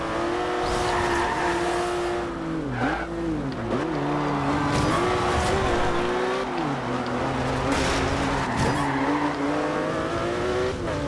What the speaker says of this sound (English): I need to stop with the drifting if we're gonna catch up